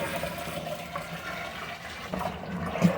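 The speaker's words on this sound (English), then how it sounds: "Let's get her topped up with some damn good cold spring water." Cold North Carolina spring water is poured into a pumpkin spiced moonshine mash to top it up, a soft, steady splashing gurgle of running water, fairly faint and close, with no speech.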